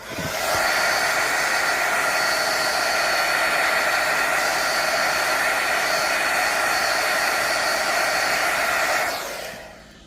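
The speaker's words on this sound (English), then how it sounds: "All right, so I'm going to heat gun it." A heat gun blows a steady, loud, even rush of hot air over resin in a frangipani coaster mold for about eight seconds before cutting off.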